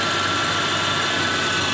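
A Subaru engine idling, a steady even hum close by with no change over the short span, no voices.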